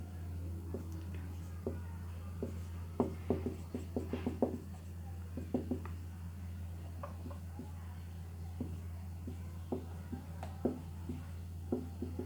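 Faint, sporadic scratching and tapping strokes of a definition being written on a board during a lesson, soft irregular marks over a constant low hum with no talking.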